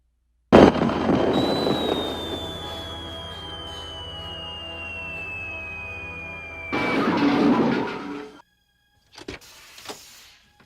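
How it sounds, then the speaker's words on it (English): A spaceship explosion from the film Killer Klowns from Outer Space: a loud, sustained roar with a high whistling tone that slowly falls in pitch. It lasts about eight seconds, then cuts out, followed by a few short crackling bursts. "The nose explodes, and so does the spaceship."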